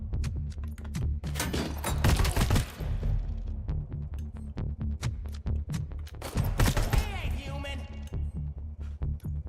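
Rapid bursts of assault rifle fire from a video game, loud and close, with several dense volleys and scattered single shots and impacts throughout.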